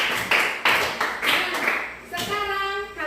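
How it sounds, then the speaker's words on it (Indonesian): Students in a classroom clap in a short burst of several uneven claps, which quickly fade as a teacher's voice begins speaking. "tepuk tangan boleh"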